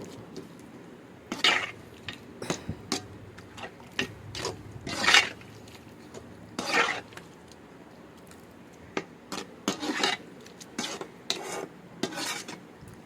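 Prawn masala is stirred in a pan, with repeated close scraping and clinking of a spoon against the metal in irregular bursts over a faint simmer.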